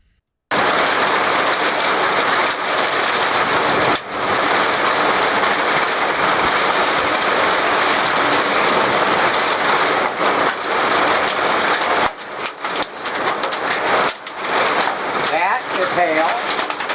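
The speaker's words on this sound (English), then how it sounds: "That is hail." Hail from a supercell storm hammering down as a dense, loud, continuous clatter, briefly easing then resuming heavier, with voices speaking over it near the end.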